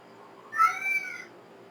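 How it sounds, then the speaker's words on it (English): A house cat gives one short meow, moderately close but soft, against a quiet room. "That's my cat."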